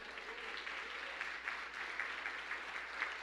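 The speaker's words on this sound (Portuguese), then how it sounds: "Se você crer, você pode aplaudir ao Senhor?" A church congregation claps together in sustained applause during a sermon, a dense, even patter of many hands filling the room without pause.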